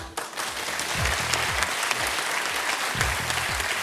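A television game show studio audience applauds a contestant, with sustained, fairly dense clapping and a low musical bed underneath.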